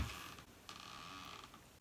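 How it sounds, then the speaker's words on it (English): A chair creaks under someone sitting on it, a near, dry squeak that stretches and wavers across a couple of seconds in an otherwise quiet room. "This chair that I'm on squeaks."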